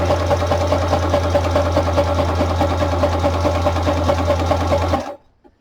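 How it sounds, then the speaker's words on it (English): A sewing machine zigzag stitches around the edge of a small paper file folder, running loud and steady with a rapid mechanical rhythm at close range, then stopping abruptly near the end. "I'm just going to stitch right around the edge of this little guy. Going to do a little bit of a zigzag."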